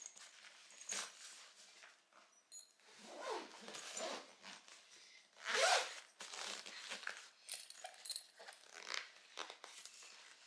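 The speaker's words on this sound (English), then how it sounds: "I fit right in there, and I just zip it up." A zipper runs along the shoe compartment at the bottom of a travel backpack in several short, rasping pulls and pauses, close and fairly loud, with rustling of fabric between strokes.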